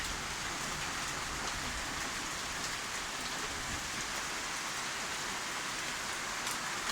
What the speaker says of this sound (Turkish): Bu yağmur iyi de oldu